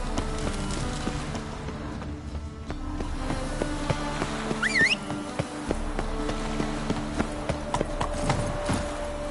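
Hooves of Roach, a horse in The Witcher 3, clip-clopping steadily and close by, with buzzing insects, a single brief whinny-like cry and faint background game ambience mixed in.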